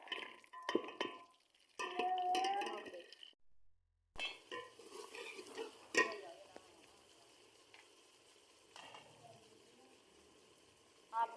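Onion and garlic stirred into ghee in a pot, with soft scraping and faint sizzling; someone talks over parts of it.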